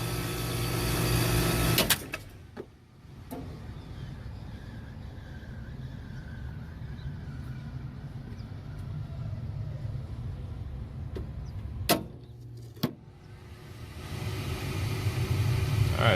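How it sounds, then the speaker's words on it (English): An HVAC furnace inducer motor runs after a power reset, a low steady rumbling hum close by, broken by a few sharp clicks and clunks partway through, with no voices. "immediately when I powered this back on, my inducer came right back on"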